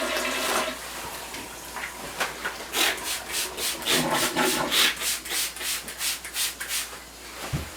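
A toilet lid shuts during bathroom cleaning, then the toilet flushes with a rushing, gurgling surge of water that pulses and swirls for several seconds, close and fairly loud.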